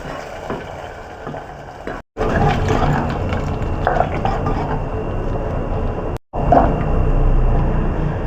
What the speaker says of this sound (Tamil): இப்போ தாளிச்சிக்கலாம். கடுகு, சீரகம், வெங்காயம், காஞ்ச மிளகா, கருவேப்பிலை.